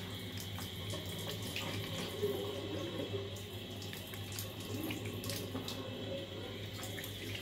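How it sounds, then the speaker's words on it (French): A bathroom tap runs steadily at a sink while someone rinses their face, a soft continuous stream with faint splashes and drips throughout. "je vais rincer mon visage."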